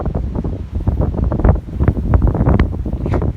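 Strong gusty wind buffets the microphone, with loud rumbling bursts and roaring surges that rise and fall throughout.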